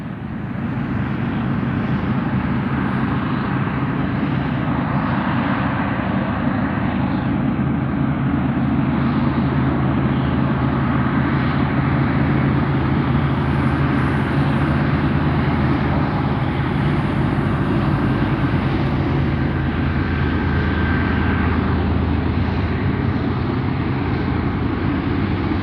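Freight train locomotives climb Cajon Pass, two trains side by side, making a continuous loud, deep engine drone with a steady rumble that holds for the whole stretch.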